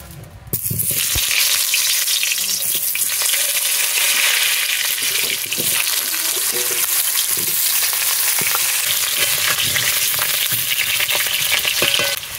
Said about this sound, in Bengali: এবার এতে কিছুটা সাদা তেল দিয়ে আমি আলুটা ভেজে নেব।